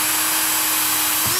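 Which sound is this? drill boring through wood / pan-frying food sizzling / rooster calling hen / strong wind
drill boring through wood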